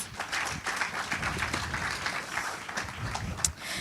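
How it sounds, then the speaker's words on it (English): Audience applause at a halal travel global summit, a steady wash of clapping from a large crowd sustained throughout, moderately loud and even with a brief sharper clap near the end. "Let's give her a round of applause."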